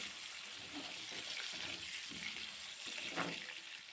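Large chunks of cut potato frying in a pan until browned, with a soft continuous sizzle and occasional stirring scrapes, fairly quiet and with no talking.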